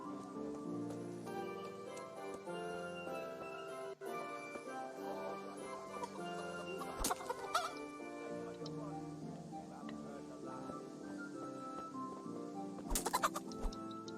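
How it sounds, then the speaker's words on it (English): Chickens cluck and call in the medieval video game Kingdom Come: Deliverance, scattered clucks over a steady ambient music bed, with a few sharper bursts near the end. "Let's try to find some chickens to beat up and hopefully be able to sell them."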